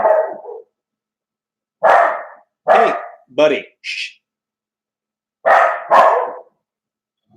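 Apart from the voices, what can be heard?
dog barking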